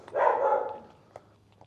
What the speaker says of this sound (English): There's some wild dogs that have occupied, it seems, the castle since everybody has abandoned it.